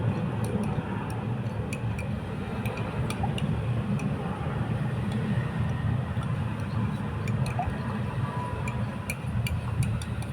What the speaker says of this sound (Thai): เครื่องบินบินผ่าน